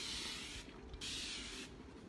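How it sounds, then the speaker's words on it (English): A handheld water mister sprays a wooden sign board in short hissing bursts, two spritzes separated by brief pauses, close and fairly quiet. "I'm gonna go ahead and spray my board down."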